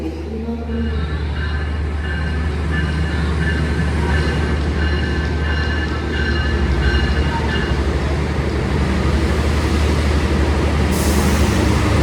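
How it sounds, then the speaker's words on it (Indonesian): The Sri Tanjung passenger train, pulled by two locomotives, rumbles steadily close by as it departs Surabaya Gubeng station, a loud low drone with faint metallic whine as it pulls away. "Kereta api Sri Tanjung berangkat kembali dari stasiun Surabaya Gubeng."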